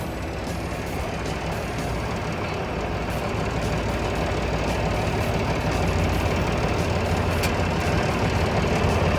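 A TCM 850 wheel loader's Nissan PD6 diesel engine runs steadily close by, a dense, unbroken low rumble with mechanical clatter that holds at even loudness throughout.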